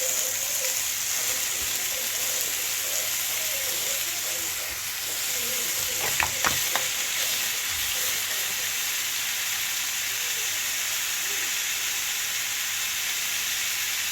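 Onions and tomatoes sauté in a pan for prawn curry, giving a continuous close sizzle with a short burst of stirring clatter midway and no voices.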